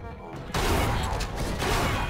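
Gunfire in the video game Bunker Punks: a short burst of shots begins abruptly about halfway through and carries on loud and close to the end, with a few dense impacts over a low rumble.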